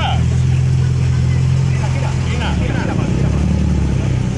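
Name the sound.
Opel Ascona 1.8 injection GT classic car arriving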